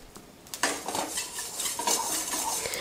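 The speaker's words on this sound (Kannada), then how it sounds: "ಸಾಸಿವೆ ಹುರ್ಕೋತೀನಿ ರೀ" Mustard seeds roasting in a dry pan while making Kannada-style lemon pickle, giving a close clatter and scrape of a spoon stirring against the metal pan, with steady faint crackle throughout.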